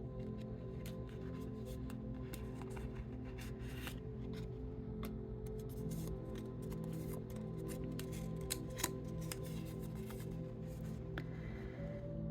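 Paper rustling and tearing as an envelope is opened by hand, a steady scratchy rubbing and ripping close up, with no talking.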